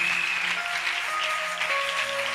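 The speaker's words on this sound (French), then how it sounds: "Give the King of Kings a big clap of praise." A congregation clapping in praise, a steady dense wash of applause with tonal music or voices faintly underneath, continuous throughout.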